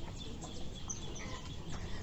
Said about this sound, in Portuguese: Do outro lado tem mais galinha.